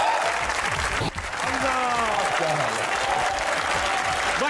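Studio audience of a comedy talk show bursts into sustained applause for guest Rana Hamza Saif, a food vlogger, filling the room steadily while the host keeps talking over the clapping.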